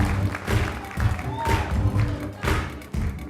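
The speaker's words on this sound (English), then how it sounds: "Come on, clap your hands." An audience at a comedy show claps in uneven bursts, rhythmic loud slaps rising and falling with some crowd murmur between them.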